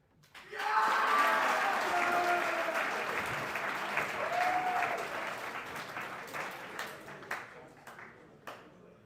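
An evening assembly audience applauds a candidate in a full, steady wave of clapping that rises quickly, holds, then tapers off, with a voice briefly over it.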